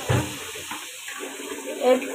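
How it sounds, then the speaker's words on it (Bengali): Water splashes and runs into a cooking pot during home cooking, a short close pour with a brief louder burst near the end and no speech over it. "এর ভিতরে একটু পানি দেন।"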